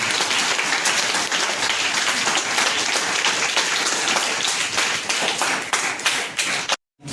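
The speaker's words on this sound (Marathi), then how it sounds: "एकदा जोरदार टाळ्या वाजवल्या पाहिजे" Loud, dense applause from an audience of young students and their parents at a Sunday-school health and eye check-up event, sustained for several seconds with no talk before it cuts off abruptly.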